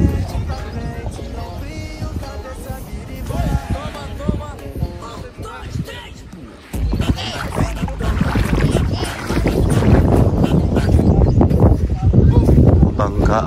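A boat on the water near a camping spot at Unisan, Quezon, with a low engine-like rumble and water noise that swells louder in the second half, while people talk over it.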